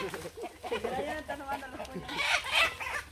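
Chickens cluck in a mango-picking spot while people talk over them, with brief louder squawks near the end.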